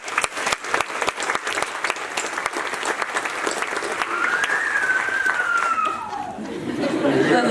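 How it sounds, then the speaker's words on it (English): A crowd at a university commencement ceremony claps loudly and continuously, with cheering and murmured chatter rising through the applause as it carries on. "Let's give them a great round of applause."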